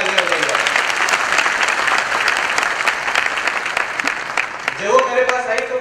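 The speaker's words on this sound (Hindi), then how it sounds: "मैं चाहता हूँ उनके ऊपर जोरदार तालियां बजाइए" Loud audience applause at a large success-day gathering in Lucknow honoring a woman named on stage, dense sustained clapping from a big crowd, with a voice beginning to speak over the final second.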